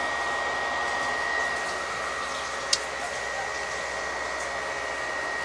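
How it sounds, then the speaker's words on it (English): Cooling fans of an Xbox 360 console whirring as a steady, even broadband hiss with a faint high whine, continuous and close, with one tiny click partway through and no talking. "you can hear the fans are starting to work"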